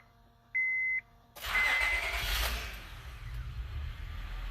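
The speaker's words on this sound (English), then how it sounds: "Engine's running a little rough because I think it was flooded." A 2006 Honda Odyssey engine cranks and catches after a short electronic beep, then settles into a loud, slightly uneven idle that runs rough throughout.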